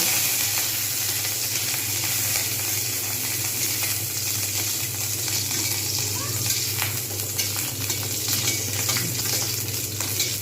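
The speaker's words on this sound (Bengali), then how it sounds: "এতেই আমি ভেজে নেব কাজু বাদাম" Cashew nuts frying in a pan, a dense continuous sizzle with light stirring scrapes, steady and close, no voices.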